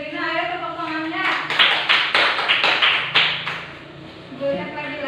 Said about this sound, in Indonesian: Ayo tepuk tangannya.